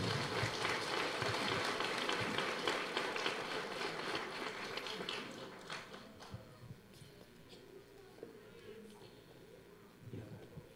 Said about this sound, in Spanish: fuertes aplausos para Rey de Reyes y Señor de los Señores